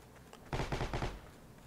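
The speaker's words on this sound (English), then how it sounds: "Obviously, this MG42" MG42 machine gun fire in the video game Heroes & Generals, a short loud burst of about five rapid, heavy shots in quick succession, with quiet before and after.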